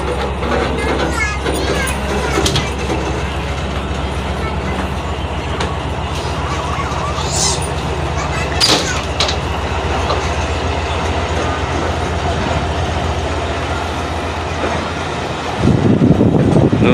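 Tezgam Express passenger train pulling out of Khairpur railway station, a steady loud rumble of wheels and carriages with rhythmic clacking, brief squeals, and a heavier low surge near the end.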